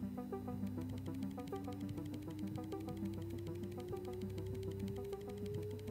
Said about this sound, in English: 500 Hz sine wave, amplifier gain of 5.